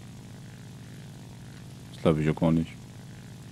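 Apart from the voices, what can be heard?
propeller aircraft engine in video game War Thunder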